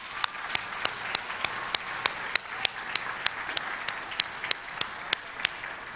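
Sustained crowd applause at a university health sciences commencement ceremony, with a few distinct sharp claps repeating in a steady rhythm over the broad clapping.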